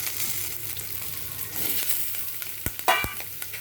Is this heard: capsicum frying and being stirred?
yes